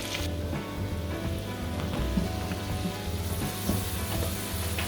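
Garlic and spring onions fry in a pan beside softened onions and red peppers, a dense, continuous close sizzle with light crackling throughout and no voices.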